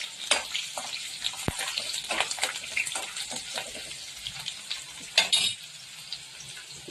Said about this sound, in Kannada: ಹಸಿಮೆಣಸು ಸ್ವಲ್ಪ ದೂರದಿಂದ ಹಾಕಬೇಕು ಹಸಿಮೆಣಸು ಸಿಡಿಯುವಂತಹ ಸಾಧ್ಯತೆ ಇರುತ್ತೆ